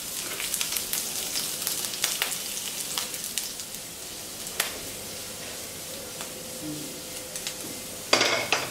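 Ginger and garlic frying in oil in a pan for cauliflower Manchurian, a steady soft sizzle with scattered clicks and scrapes of a spoon against the pan, ending in a louder clatter.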